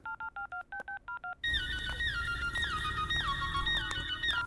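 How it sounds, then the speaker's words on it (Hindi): A mobile phone is dialed with eight short, evenly spaced keypad tones, followed by a continuous ringback tone over a low steady hum. "मनु को फोन करके उसे मंगवा लेती हूँ और इंजीनियर को भी कॉल करती हूँ"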